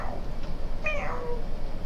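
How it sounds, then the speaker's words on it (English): A cat gives a single short meow partway through, fairly close, over a steady room hum with no speech. "the damn cat is stepping on my teleprompter"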